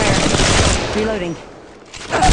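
Rapid automatic gunfire in the mobile battle royale shooter Apex Legends Mobile, a dense burst of shots that breaks off briefly before firing resumes, with a voice speaking partway through.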